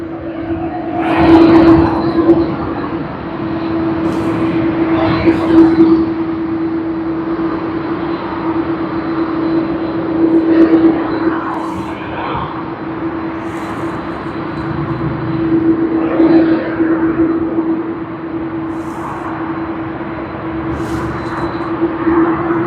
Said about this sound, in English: How many of you all love the sound of the A330?